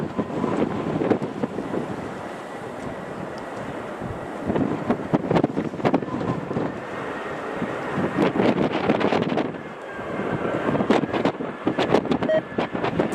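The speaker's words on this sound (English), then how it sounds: "surface wind, the 2-minute average, 260 degrees, 21, maximum 35 knots" Strong, gusty wind at Manchester airport roars and buffets against the microphone in uneven surges, with rumbling gusts rising and falling throughout and no voices heard.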